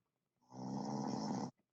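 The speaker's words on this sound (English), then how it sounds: "I heard the snore, so we know he's still sleeping" A sleeping man gives one long, loud snore lasting about a second, a rough rasping breath alone in an otherwise quiet room.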